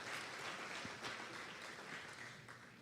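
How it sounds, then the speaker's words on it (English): Audience at an alumni showcase gala applauding in a steady, fairly faint wash of clapping that holds for a few seconds, sounding somewhat distant. "One more round of applause for yourselves"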